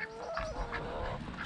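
A hen in a backyard laying flock gives a short run of clucking calls with one drawn-out note, close to the microphone, with no talk over it.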